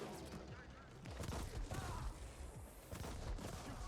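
Shotgun fire in the cyberpunk action game The Ascent: repeated punchy blasts mixed with other combat booms and mechanical clatter, dense and busy, with a voice talking underneath.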